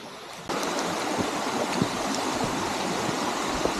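A flowing stream rushes steadily and loudly, a continuous close wash of water after a brief quieter moment at the start.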